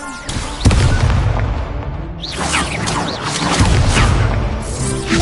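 Confringo blasting spell explosions in Hogwarts Legacy, a sharp booming blast followed by more crackling bursts and whooshing magical effects, loud and close.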